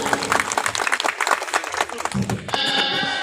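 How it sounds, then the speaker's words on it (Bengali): An audience at a felicitation ceremony for a union council member claps in a short burst of applause, mixed with a voice speaking over it before fading into a sustained tone. "আমরা সকলে করতালি দিয়ে অভিনন্দন জানাব।"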